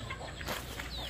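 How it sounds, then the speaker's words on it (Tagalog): A few short clucks from chickens on a poultry farm, close by and moderately loud over a steady background hum, with no talking. "Napakarami nating manok ngayon dito."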